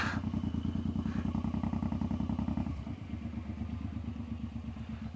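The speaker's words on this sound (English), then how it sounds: "let me use my brake and slow myself down" A cruiser motorcycle engine idles with a steady, loud, throbbing pulse, dropping in pitch and easing off around the third second as the bike brakes and slows, with faint clatter over the rumble and no talk.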